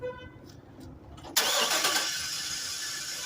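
GMC van with a bad ground cranking without starting, a close mechanical starter whir that kicks in abruptly after a quiet moment and keeps churning steadily without catching.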